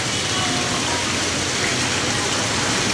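Steady, dense rain pours down outdoors beside open shops, a continuous close hiss of drops with no voices and no pauses.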